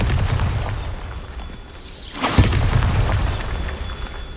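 A Bombarda blasting spell explodes in the Hogwarts Legacy video game: one loud, booming blast with a sharp crack, set against a steady, dense game soundscape.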